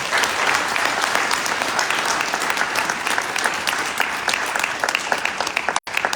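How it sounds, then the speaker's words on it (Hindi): A seminar audience in Delhi gives loud, dense applause, with steady clapping continuing for about six seconds. "एक बार जोरदार तालियां अपने लिए बजा दीजिए।"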